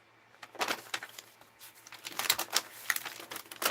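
Scissors snip through pages of an old Saturday Evening Post magazine, giving a run of crisp, papery cuts and rustles that come up close and steady, with no talking over them.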